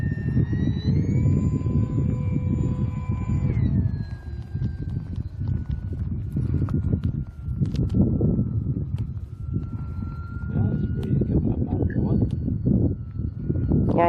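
A 1.5-meter electric RC Cessna 182 model airplane on a 4-cell 3600 battery flies overhead, its motor whining at a steady pitch that drops sharply after a few seconds, over continuous low outdoor rumble.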